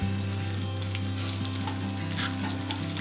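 Curry leaves and marinated masala for quail fry sizzle steadily in a hot pan, a dense continuous frying hiss with faint stirring scrapes, close and unbroken, with no talk.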